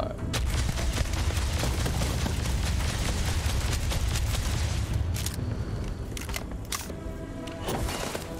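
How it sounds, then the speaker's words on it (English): Dense, continuous gunfire and booming weapon blasts from a robot attacking the player in the Starfield video game, loud and sustained throughout with rapid overlapping shots and heavy low rumble, a few sharper bursts near the end. "What is that robot shooting me with?"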